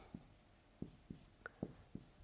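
Chalk tapping and scratching across a classroom board in short strokes, about six distinct taps spread over two seconds, moderately close with a quiet room behind and no talk.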